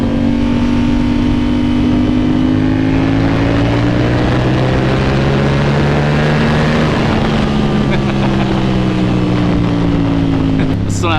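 A 2024 Yamaha R7 motorcycle engine revs upward under hard acceleration, with a loud droning pitch that climbs, dips at a gear change, then climbs again. Wind rushes constantly around the rider.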